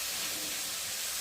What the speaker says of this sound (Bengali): আর এখন আমি আলুটা নেড়ে দেবো।